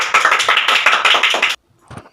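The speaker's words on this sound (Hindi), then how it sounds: "बजाइए इनके लिए तालियां" Applause from a quiz-show audience after a correct answer, a dense patter of hand claps lasting about a second and a half before cutting off abruptly, followed by a faint brief sound.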